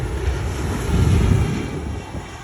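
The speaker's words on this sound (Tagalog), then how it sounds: "ayan ng eroplano maglalaan din siya doon sa airport" A low, rumbling roar of an airplane engine passing overhead toward an airport, mixed with wind buffeting the microphone and faint strong surf.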